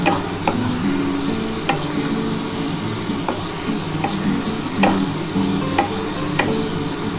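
Capsicum and spiced masala sizzling loudly in a pan while a spatula scrapes and clacks against the metal at irregular intervals, with no talking.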